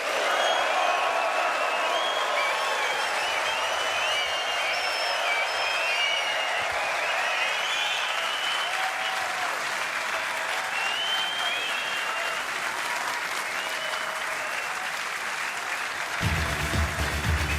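A sellout crowd at Alexandra Palace gives sustained, dense applause as the players enter at the Masters snooker tournament, the clapping loud and continuous throughout.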